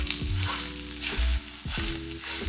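Plain sausage with fennel and red pepper frying in a pan and being broken up, a steady close sizzle with repeated scraping and pressing strokes.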